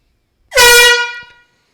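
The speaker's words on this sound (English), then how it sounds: "If you hear the air horn, watch for lad's reaction." A single loud air horn blast sounds alone, a bright, brassy tone holding for about a second before tailing off quickly into silence.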